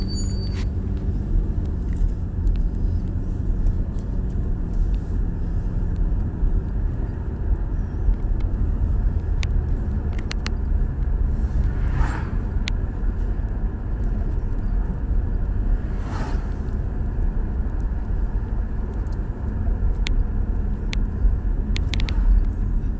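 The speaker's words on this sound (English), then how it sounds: "then we go for a test drive for a few miles" A 2011 Chevy Impala on a test drive, giving a steady low road and engine rumble with constant tire noise and occasional faint clicks, no talking.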